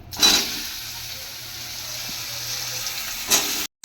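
Vegetables dropped into hot oil tempered with panch phoron, bay leaf and dried red chilli, a steady close sizzle with short bursts of louder crackle at the start and near the end, no voices.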